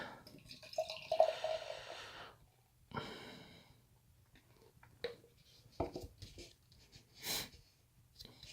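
Beer trickles and splashes into a glass, soft and close, with brief fizzing bursts between quieter pauses.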